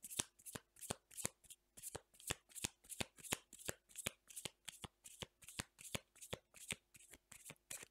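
Tarot cards shuffled by hand in a quiet room, a rapid, regular series of crisp riffling flicks, close but soft, repeating steadily without speech.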